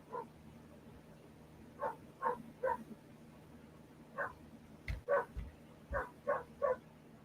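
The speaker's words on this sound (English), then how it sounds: "My dogs are driving me crazy because my husband is on the lawnmower and they want to bark 24/7 when he's out there." Several dogs bark in short bursts at home, yipping in quick clusters of two and three, fairly near, set off by a lawnmower running outside; no one speaks.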